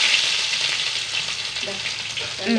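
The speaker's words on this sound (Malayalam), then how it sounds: "രണ്ട് മൂന്ന് വെളുത്തുള്ളി ഇട്ടാ ആ പൊട്ടി തരുന്നത്" Garlic cloves fry in hot oil just after mustard seeds have popped, giving a steady close sizzle with crackling pops throughout and no talk.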